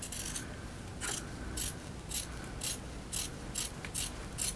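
Pinking shears snip through fabric along a marked line, a series of about eight crisp, close metallic cuts coming in a fairly steady rhythm, with no voices.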